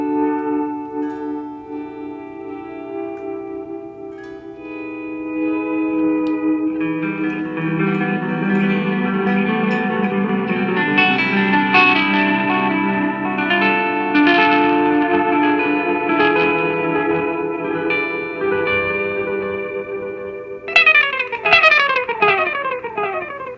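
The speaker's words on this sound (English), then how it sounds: "The Space Echo, which emulates the Roland Space Echo, is another tape delay, but this time they add chorus into the mix" Guitar playing through a TC Electronic Alter Ego V2 pedal on its Space Echo tape-delay setting with chorus: sustained, shimmering notes with repeating echoes and a lush wavering wash, loud and steady throughout, ending in a brighter strummed burst.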